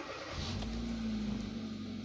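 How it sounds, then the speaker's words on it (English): A 2018 Hyundai Creta with a misfire and loss of power cranks and catches, then settles into a steady, close engine idle with a low drone that holds throughout, no voices. "So let's start the vehicle up."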